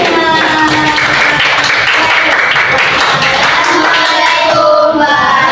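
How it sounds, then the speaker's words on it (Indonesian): A classroom group claps together after a student presentation: dense, steady applause from many hands, fairly loud and sustained throughout, with a few voices mixed in. "tepuk tangan semuanya"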